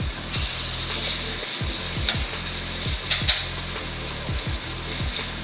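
A mahi mahi fillet sizzles steadily in a hot frying pan, loud and close, with a few scrapes and taps as it is flipped; no talking.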